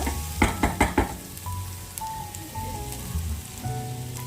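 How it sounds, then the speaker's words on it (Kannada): Grated coconut roasts in a pan for corn rice: a few quick knocks of a utensil against the pan at the start, then a soft, steady crackling sizzle. "ಈಗ ಇದಕ್ಕೆ ತೆಂಗಿನ ತುರಿನೂ ಹಾಕ್ಕೊತಾ ಇದ್ದೀನಿ. ಇದನ್ನು ಸ್ವಲ್ಪ ಹುರ್ಕೊಂಡು"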